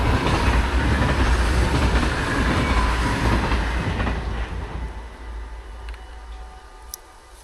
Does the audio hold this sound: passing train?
yes